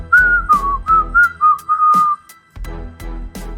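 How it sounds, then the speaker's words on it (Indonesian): A man whistles a wavering tune in short melodic phrases, close and clear, with a few low bumps between the notes and a brief gap before the whistling resumes. "Orang inilah yang tengah asik bersiul-siul seenaknya."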